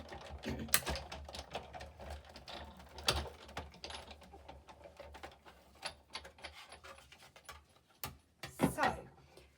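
A die cutting machine cuts paper for a gift box, giving quiet, irregular mechanical clicks, rattles and creaks close by, with a few louder knocks.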